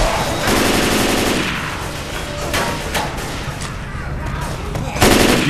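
Rapid automatic gunfire in the zombie shooter game Left 4 Dead 2, loud bursts of dense shots at the start and end with scattered impacts between, while a person talks.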